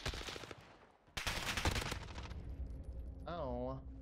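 Rapid gunfire bursts in a Call of Duty: Modern Warfare 1v1 match, crisp repeated shots in quick volleys, mixed with excited voices talking over the action.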